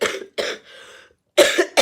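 A person coughs several times in short harsh bursts, close and fairly loud, with a rough breathy throat sound between two pairs of coughs and brief silences in between.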